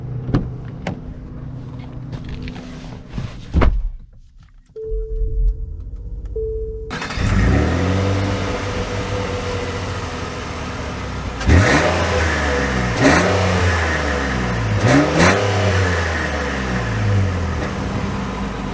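A 2022 Nissan Pathfinder SL with a CVT pulls away: a brief electric whir and a quiet pause, then the engine note swells. Several rising, sweeping acceleration surges follow, heard up close from inside the cabin, with no speech.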